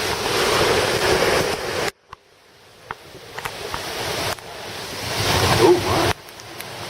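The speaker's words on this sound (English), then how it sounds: "Wind." Hurricane Irma's wind roars in loud, sustained gusts against the microphone on St. Croix, with heavy surf churning underneath; the noise briefly drops away between blasts before surging again.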